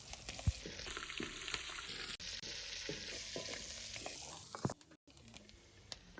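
Curry leaves tossed into oil separated from reduced coconut milk sizzle steadily and close, with stirring scrapes and brief crackles over a continuous frying hiss.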